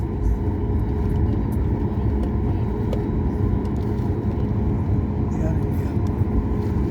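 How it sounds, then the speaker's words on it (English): Inside an Air India airliner taxiing at Bangalore airport before take-off, a steady, loud cabin rumble and engine drone run unbroken from start to end. "So you can see our flight started taxiing."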